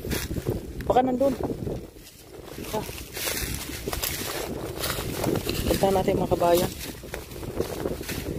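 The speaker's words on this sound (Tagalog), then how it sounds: "Lakas ang hangin." Strong wind buffets the microphone with a steady broadband roar outdoors near a makeshift hut where charcoal is made, while people talk over it throughout.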